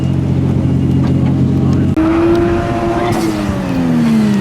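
A drift car with a 1JZ engine swap is driven hard, engine revving loudly while the tires squeal through a slide, the engine note climbing and falling close by with no talk.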